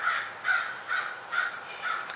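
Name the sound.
crows cawing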